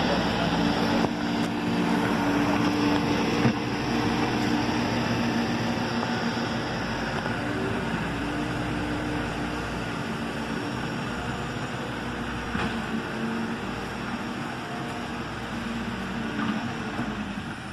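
Backhoe loader engine working while clearing a lot, a steady close diesel rumble and drone that runs without a break, easing slightly in loudness partway through.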